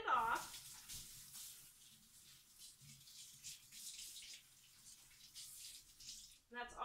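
Running tap water rinses lye off skin during soapmaking. A steady, fairly soft hiss of water goes on throughout, with brief voices at the start and the end.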